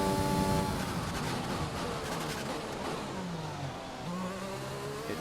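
Several F1 race cars in the F1 2020 video game battle down into a hairpin at the USA round, engines roaring and revving loudly with pitch sweeps as they brake and shift, a dense continuous wall of engine noise.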